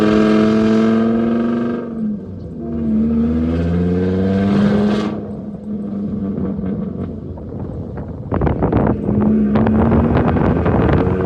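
An Audi being test-driven up and down a road during a brake diagnosis, with engine tones rising and falling as it accelerates, heavy wind buffeting and a revving surge near the end.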